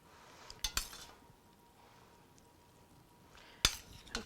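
Cooked hamburger meat scraped into a very large bowl, a few quick metallic clinks and taps at the start and again near the end, faint room hiss between, no talking.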